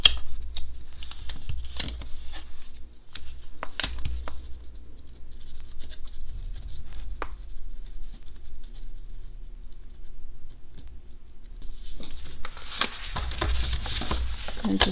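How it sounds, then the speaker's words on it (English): Scissors cut out a paper flower for a planner at a desk, giving close, crisp snips and light paper rustling and crinkling in short bursts, busier near the end. "I'm going to to go ahead and cut this flower off too."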